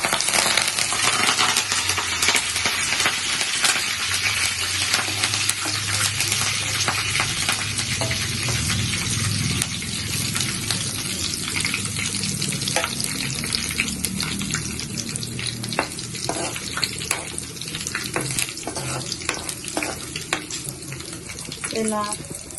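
Cumin, mustard seeds, dried red chilies and curry leaves fry in hot oil for a Telugu pappu aloo fry, giving a steady, loud sizzle with crackling bursts and occasional clinks of stirring throughout.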